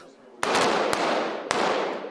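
Three sharp gunshots from a foreign-made weapon ring out during police special unit training, separated by rough pauses, each followed by a long, dense echoing roar.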